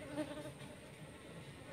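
Worker bees buzz steadily while gathering nectar from flowers, a faint, continuous insect hum with no voices.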